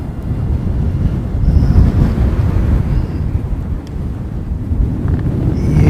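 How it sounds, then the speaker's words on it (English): A strong wind gust roars across the microphone at an outdoor plane spotting site. The rumbling buffeting is loud and continuous for about six seconds, and no voices are heard. "that gust would have been a lot stronger than that"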